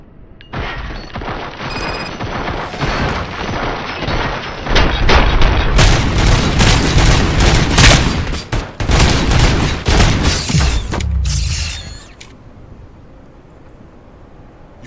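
Heavy gunfire in the video game Robocop: Rogue City, dense rapid bursts and booms blending into a loud sustained barrage for several seconds, then cutting off to a quieter tail.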